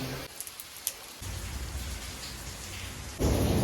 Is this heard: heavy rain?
yes